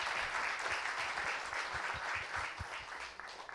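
A large audience applauds at the AGNI IGNITE 2026 North Conclave, a dense, continuous wash of clapping that holds steady and then slightly eases near the end.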